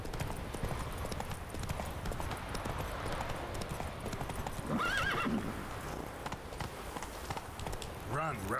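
Horse hooves clip-clop at a gallop in The Witcher 3, steady rhythmic footfalls with a brief whinny, set against continuous game ambience and a voice talking over it.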